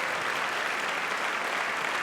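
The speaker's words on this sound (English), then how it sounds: "Give them a round of applause for the people making District Band." Steady applause from a school concert audience honoring District Band members at a high school spring band concert, a dense even clatter of many hands filling the whole stretch.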